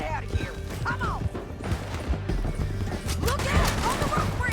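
Horse hooves clatter in a steady clip-clop during a Red Dead Redemption 2 chase, mixed with crashes, whinnies and a busy game soundscape.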